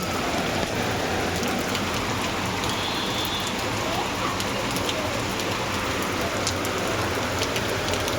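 A downpour keeps falling in a steady, full roar of rain hitting the ground and water nearby, unbroken from start to finish.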